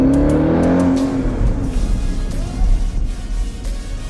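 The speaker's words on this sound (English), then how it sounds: "It has 707 horsepower in a V8 supercharged motor, insane power delivery." A supercharged V8 in a Jeep Grand Cherokee Trackhawk revs loudly, its engine note rising and then falling away into a steady rumble, close by with no talking.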